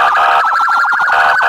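A loud, close wailing siren sound effect warbles rapidly up and down, like an emergency vehicle, filling the whole short stretch with no talking.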